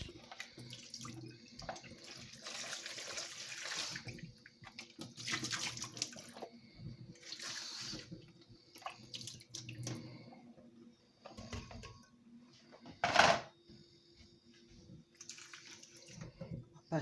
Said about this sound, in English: My mango a quick wash.